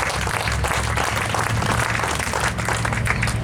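Audience applause at a time capsule opening event for Eudora (Nottingham) Elementary School, honoring heritage council supporters; steady, dense clapping from a crowd fills the whole stretch at an even level.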